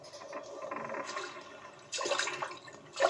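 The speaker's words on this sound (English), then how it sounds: "From the open hatch leading to the hold came a loud swishing and splashing" Water swishes and splashes inside a ship's hold in uneven surges, growing louder in bursts toward the end, fairly faint and distant with no voices.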